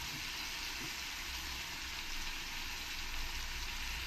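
Chilli chicken sizzles steadily in a pan as tomato sauce goes in, a soft, even frying hiss with faint bubbling, quiet and close, without talk.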